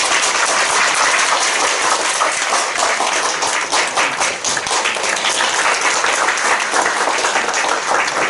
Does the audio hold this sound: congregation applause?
yes